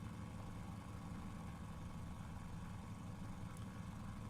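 Fokker F.VII engine in a flight simulator idles just after start-up, a steady low rumbling drone with even vibration throughout, heard alone without talk.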